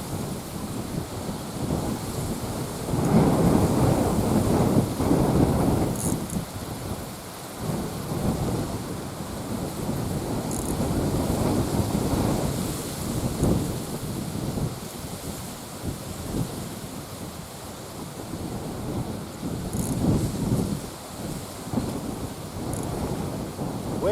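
Strong wind buffets the microphone beside a pond during a fishing outing, a continuous loud rumbling roar that swells and eases in gusts throughout, with no talk.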